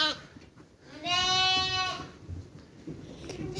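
A twin lamb tagged number 7 lets out a single loud, quavering bleat near the microphone, with quieter farmyard noise before and after.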